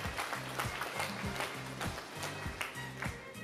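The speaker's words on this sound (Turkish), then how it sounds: "Alkışlayın." Concert audience applause at an anniversary concert, a crowd clapping in a fairly even rhythm of distinct claps at moderate distance, with a little background noise.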